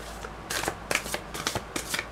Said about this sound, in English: shuffle that one more time.